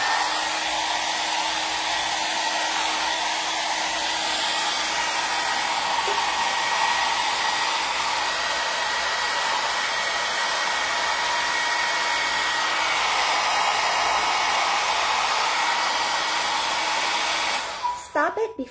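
A hot air brush hair dryer used for styling curtain bangs runs continuously with a steady, loud blowing whir close by, switching off near the end.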